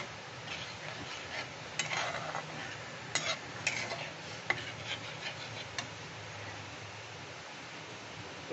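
Cashew-paste masala for egg korma is stirred in a pan over low heat, with a steady soft simmering hiss and scattered scraping, tapping clicks of a spoon against the pot.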